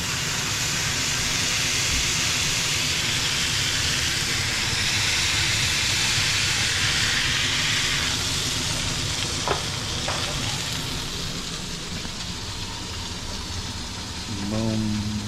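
Smash burger patties sizzle loudly on a hot griddle after being pressed flat, a steady dense frying hiss throughout with a few brief scraping clicks near the end.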